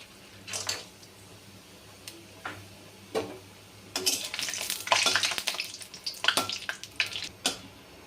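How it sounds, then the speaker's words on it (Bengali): Lentil dumplings (bori) frying in hot mustard oil for a Bengali shukto, giving soft intermittent sizzles and crackles, with a busier burst of spattering in the middle and a few faint clicks and stirring sounds around it. "এবার হচ্ছে শুক্তো রান্নার জন্য বড়িগুলো ভেজে নেবো"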